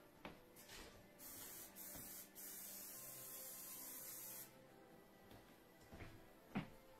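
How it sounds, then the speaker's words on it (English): A steady hiss of aerosol cooking spray on the bottom of a baking dish, lasting a few seconds with brief breaks, framed by light clattering of the dish being handled. "We're going to spray the bottom of this."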